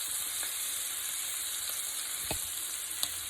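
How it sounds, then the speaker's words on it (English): Blackened shrimp with tails on, sizzling in butter and seasoning in a pan, a steady close hiss of frying with a few soft clicks and scrapes from a utensil now and then. "We're going to cook it on one side, then we're going to flip it over and cook it on the other side"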